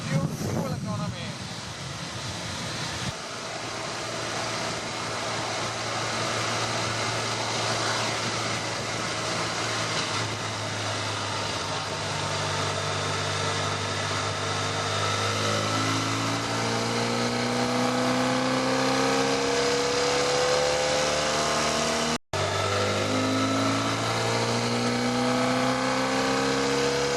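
A 2012 BMW F800ST motorcycle engine chugs at low revs near 3,000 RPM, a continuous loud drone whose pitch rises steadily under wind noise and riding, with a brief dropout near the end.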